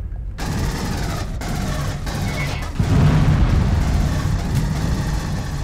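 Sustained gunfire in the Aliens: Colonial Marines video game, a dense, loud run of overlapping shots and rumbling bursts that continues without pause and swells slightly partway through, with no voices.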